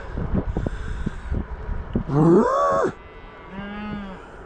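Cows moo loudly and close by in South Dakota, one long drawn-out bellow followed by a shorter, lower moo, with some snorting and wind in the background.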